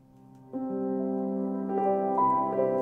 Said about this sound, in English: It's made up of a soundscape of this Chopin-esque piano,